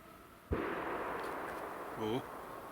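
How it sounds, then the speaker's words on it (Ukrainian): A single sharp gunshot cracks out at a distance during a driven hunt for hoofed game, followed by a long fading rumble and a brief voice near the end. "Є постріли."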